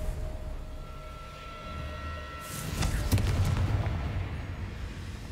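A Confringo blasting curse from Hogwarts Legacy goes off as a sudden burst with a crackling, rumbling tail, heard over a steady background hum of game ambience.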